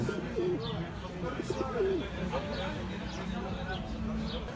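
Pigeons being hand fed coo and birds chirp close by in Greece, with people talking throughout over a busy outdoor background.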